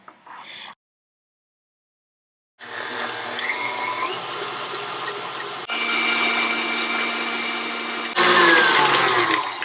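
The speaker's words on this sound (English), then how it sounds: "I'm just going to load it into the mixer" An electric stand mixer whips chocolate ganache filling for macarons, a steady whirring motor drone that cuts in after a short silence and rises in intensity in stages as the speed is stepped up, with no talking.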